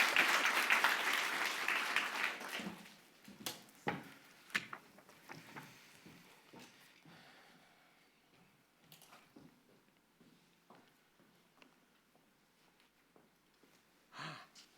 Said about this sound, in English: let's give a warm round of applause for Ian